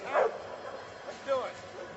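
Dog at a dock diving competition giving a couple of short yips and barks, one near the start and another about midway, over steady crowd and announcer chatter in the background.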